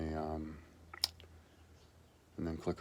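A computer mouse gives a quick, sharp double click on a folder, set between stretches of someone talking.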